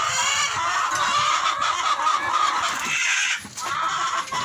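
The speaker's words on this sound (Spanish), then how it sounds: "Ese cacaraqueo es muy peculiar, sonido que ellas hacen cuando están alistándose para poner" Many free-range hens in the nesting boxes, cackling before laying eggs, cluck and cackle together in a busy chorus, dense and continuous with a brief dip near the end.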